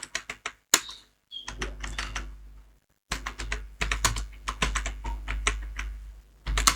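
Bursts of keystrokes on a computer keyboard while typing a line of text in Microsoft Word, close and fairly loud, with a brief pause near one second and a longer gap around three seconds before steady typing resumes.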